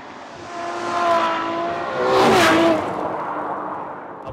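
A Ferrari 812 Superfast with a 789 bhp engine revs hard on the move, its loud, close wail climbing in two strong surges with rising pitch, a brief whoosh in between, and no voices over it.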